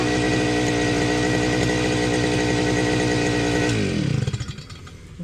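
Loud two-stroke string trimmer engine running steadily near the mic while cutting grass in a yard, its buzzing drone holding high revs before dropping and sputtering toward idle near the end.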